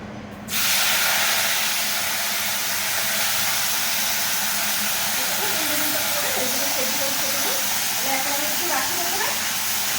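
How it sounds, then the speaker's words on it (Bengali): Chopped neem leaves fry in a pan with a loud, steady hiss that starts abruptly and holds throughout, while a faint voice speaks in the background toward the end. "একটু কেটে কেটে নিম পাতাটা ভেজে নিল"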